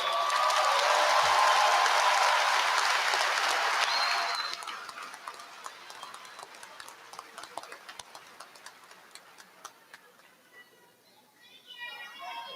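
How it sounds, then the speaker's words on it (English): Commencement audience applauding at a law school graduation, a loud dense wash of clapping for about four seconds that stops abruptly, followed by scattered isolated claps and quieter room noise. "Let's give him another round of applause"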